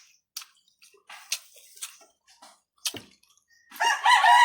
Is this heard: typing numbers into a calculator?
no